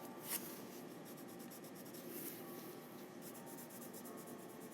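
A colored pencil scratches steadily across paper while filling small areas of a sandy beach scene in an adult coloring page; soft, close, continuous rubbing strokes with no talk.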